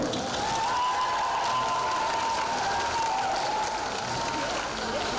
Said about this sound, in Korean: 이제는 박수 주세요